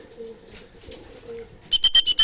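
Racing pigeons on a loft coo softly and faintly at first, then a burst of louder rapid flapping or scuffling follows near the end.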